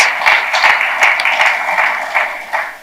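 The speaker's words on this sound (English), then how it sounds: "I think that deserves a round of applause." Audience applause breaks out at a bank's capital markets day business presentation, a steady wash of many hands clapping together for about three seconds, fairly loud and close, with no voices over it.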